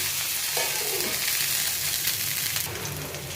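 Spices and lentils sizzle steadily in hot oil in a pan while curd rice is prepared Andhra style, a close, continuous crackling hiss with a brief swell of frying noise near the end.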